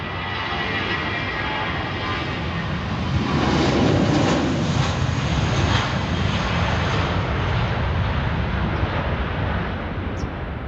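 A jet airliner departs London Heathrow from runway 27R with a steady, broad roar that swells to a peak partway through and then holds, heard from a distance outdoors with light wind noise.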